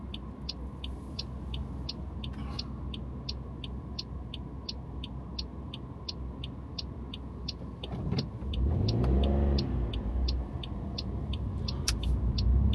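Cars drive along Blackpool promenade, with steady road traffic passing nearby and one vehicle whooshing close by midway, over a faint regular ticking in the background.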